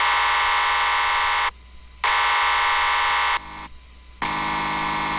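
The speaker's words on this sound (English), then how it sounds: "The laser pistol, it sounds like this." A synthesized laser pistol patch made in the Serum synthesizer: loud, harsh, distorted buzzing tones in sustained bursts broken by short gaps, with the texture shifting between bursts, electronic and alone.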